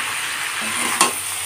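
Boiled jackfruit and potato fry with sautéed prawns in a wok, giving a steady hissing sizzle with one quick stirring scrape, heard briefly and close without speech.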